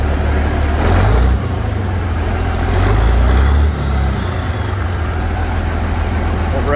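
A 160-horsepower tractor at an auction sits idling with a low, steady rumble, its engine swelling briefly twice into a slightly louder, rougher note before settling back.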